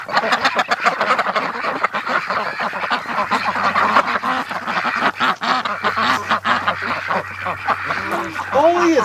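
Dirty ducks in a barn quack continuously in a noisy, overlapping chorus, close and loud, while a person talks over them.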